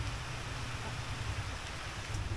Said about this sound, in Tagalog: Nabot na ng ulan.